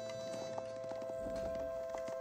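Royal knights on horseback advancing in the Age of Empires 4 strategy game, a steady patter of hoof clip-clops over a constant tonal hum of game ambience.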